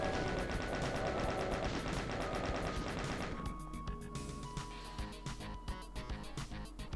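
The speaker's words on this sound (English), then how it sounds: "Just some lost souls, chain gun them down." In Doom II, a chaingun fires at lost souls in rapid, continuous bursts of loud crackling shots, dense at first, then thinning into separate rattling rounds and impacts.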